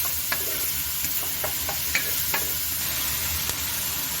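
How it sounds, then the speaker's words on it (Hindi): Garlic, ginger and green chili paste frying in ghee over a medium flame for Punjabi bhindi gosht, a steady sizzle with scattered small pops and stirring clicks, close and moderately loud. "इसमें डालते हैं जी लहसुन, अदरक और हरी मिर्चों का पेस्ट और इसको जो है वो 2 से 3 मिनट तक जो है वो भूनेंगे भी"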